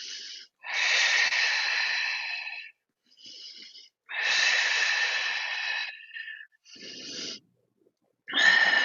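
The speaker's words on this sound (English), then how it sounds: "3 more breaths." Deep, forceful yoga breaths while holding plank pose, loud breathy rushes of air repeating in a slow rhythm with short silent gaps between inhales and exhales, close and without talk.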